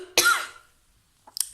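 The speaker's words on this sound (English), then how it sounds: "I'm going to cough again" A single sharp cough bursts out close to the microphone, followed by silence and a couple of faint clicks.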